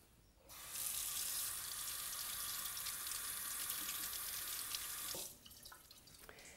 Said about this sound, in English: then you're ready to cool it down a little more by running it under the cold tap